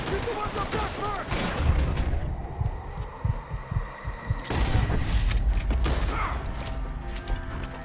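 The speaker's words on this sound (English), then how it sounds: "Shoot the ones up there first!" Gunfight in Red Dead Redemption 2 against enemies perched up in a tree: a busy, cluttered mix of sharp shots, mechanical clicks and thuds, loud and close, with one heavier cluster of impacts midway.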